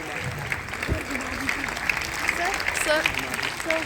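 Audience applause at a Brahma Kumaris centre event in East Delhi, moderate continuous clapping with voices talking over it and faint tonal sounds in the background.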